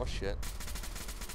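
A gun fires in Fallout 4, a rapid run of loud, close shots after a short spoken exclamation.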